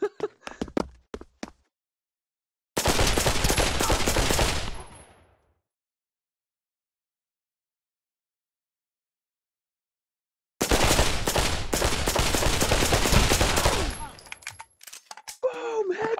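Gunfire in the VR shooter Pavlov comes in two long, dense bursts of rapid automatic shots, close and loud, separated by silence, with a few scattered single shots at the start.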